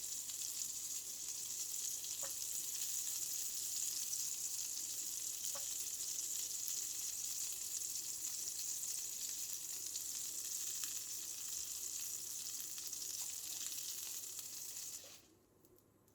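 Köfte meatballs frying in a pan with very little oil, a continuous even sizzle with a few faint pops, fading out at the end.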